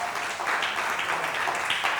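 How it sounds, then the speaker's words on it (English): An audience at a national trainers and speakers conference claws out a dense, even round of clapping for a named participant, continuous across the brief moment. "Big round of applause for Nayab Nirja."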